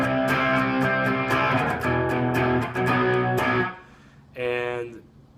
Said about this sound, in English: I have a EP boost on my clean channel and gain channel, so it gives a little bit of a grit just to the clean